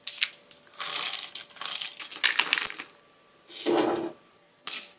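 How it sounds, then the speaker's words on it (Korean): A Comandante hand coffee grinder gives several bursts of bright, rattling clicks, like beans cracking or the dial ratcheting, in close, loud clusters separated by short pauses and one duller burst near the end. "그라인더 입자는 코만단트 기준 16클릭"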